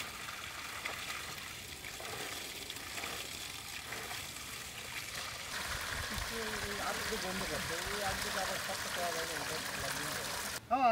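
Running water splashing and trickling while small bata carp are washed, a steady wash of noise throughout with a voice speaking faintly over it near the end.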